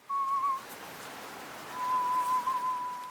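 A person whistles a melody, two clear sustained phrases separated by a brief pause, close and alone over a soft hiss.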